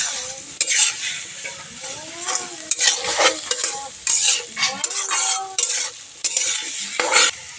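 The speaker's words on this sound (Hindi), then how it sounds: "अब अच्छे से मसाले को भून लेते हैं" Spice masala with turmeric is roasted and stirred in a pan: loud, repeated scraping strokes of a utensil over a bright, steady sizzle, with a few metallic clinks.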